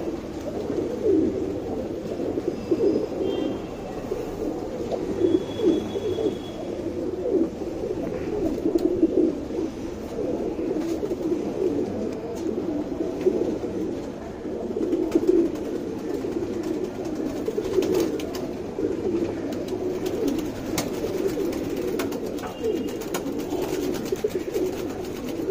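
Tournament pigeons in a Bangalore loft coo steadily and continuously, a dense low murmur of many birds close by with no talk over it.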